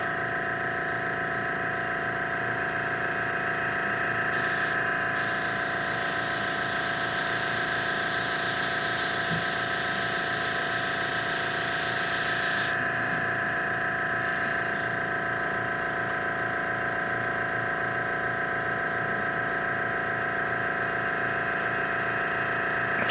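Airbrush spraying paint onto model wraith blades, a steady hissing spray with a pump hum underneath, running continuously at close range with a brief louder burst midway.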